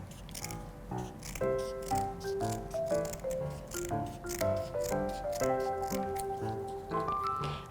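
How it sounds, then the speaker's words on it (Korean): Scissors cut out a paper shape for a Christmas wreath craft with repeated snips and crisp rustling, close and fairly steady throughout, while soft music plays beneath. "가위로 오려주세요."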